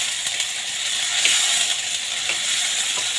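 Pork sizzles in a pan, already holding tomatoes and onions, while making lumpiang ampalaya: a steady, close hiss of frying with a few scraping stirs and clicks.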